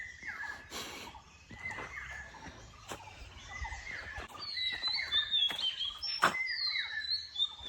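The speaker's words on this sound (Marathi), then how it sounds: "पक्ष्यांचा आवाज बघा सारखा येतोय" Birds call repeatedly outdoors around a forest home in the Konkan countryside, with short whistled chirps and trills overlapping from several directions over a soft ambient background, growing busier toward the end.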